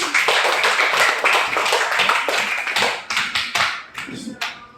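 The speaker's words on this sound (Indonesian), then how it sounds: "tepuk tangannya dulu" A class of children claps hands in a dense, brisk burst that gradually thins into a few scattered late claps as it fades out, with no talking over it.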